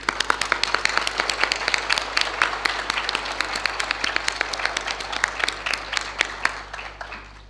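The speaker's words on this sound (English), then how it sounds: "So let's give him another big round of applause," Lecture audience giving a big round of applause, dense crisp clapping from many hands, sustained and fairly close, with no talking over it.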